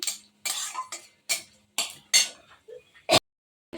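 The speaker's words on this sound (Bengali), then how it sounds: "একটু নেড়ে ছেড়ে দিচ্ছি" Spices being stirred in a pan: a spatula scrapes and knocks against the metal in about eight short, separate strokes as cumin and dried chilli fry, with quiet gaps between them.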